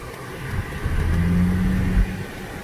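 A 2008 Saab 9-3 Sportcombi engine pulls while driving, a steady loud cabin drone that swells as it accelerates, with the engine note rising and then easing off near the end.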